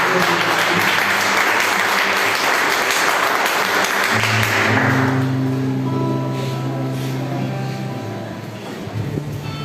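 Church congregation applauding for the Lord as people sit down, a loud, sustained wash of clapping that fades after about five seconds into droning music and room noise.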